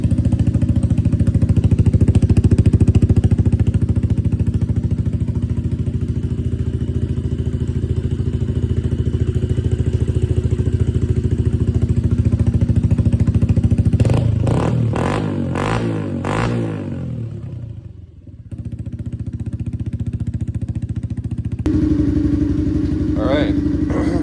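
Honda CRF110F dirt bike fitted with a BBR D3 exhaust, 24mm throttle body and ported intake, idling and revving nearby: a steady buzzing engine drone with a few sharp throttle blips, a brief cutout, then the engine settles back in.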